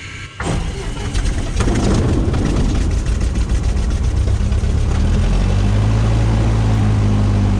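Cessna aircraft engine starts on a cold morning. After a brief crank, it catches and settles into a loud, steady, rumbling run.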